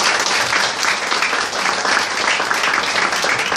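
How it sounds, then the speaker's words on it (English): Crowd applause at a book store event, loud and continuous, with many hands clapping in a dense, even wash that lasts throughout and never pauses. "So give them a round of applause."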